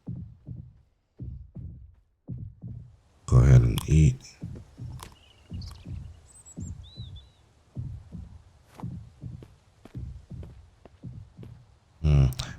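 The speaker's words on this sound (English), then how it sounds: "You can hear the heartbeat of the creature, whatever it is." A creature's heartbeat in the survival video game Mist Survival thumps in a slow, regular low pulse, punctuated by a couple of louder bursts of speech.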